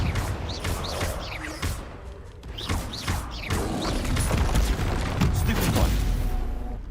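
Spell-combat effects in the video game Hogwarts Legacy, a busy run of thuds, booms and mechanical clatter with whooshing swept tones near the start, and a sustained loud rumble building toward the end.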